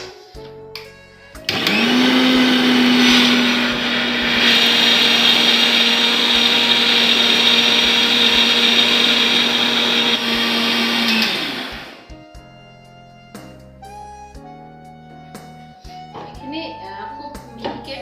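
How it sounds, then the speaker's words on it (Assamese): A kitchen mixer grinder blends cloves, cardamom, cinnamon and green chilies with water into a paste, running as a loud, steady whirring drone for about ten seconds before stopping, followed by faint kitchen clatter. "লং ইলাচি দালচেনি আৰু এই কেঁচা জলকীয়া এইখিনি একেলগে মই মিক্সিত পেষ্ট কৰিম"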